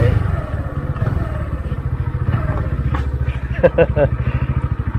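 A Stallions SM150 motorcycle engine runs nearby with a rapid, even low thump, pulling away with a brief rise in revs and some clatter, while someone talks over it.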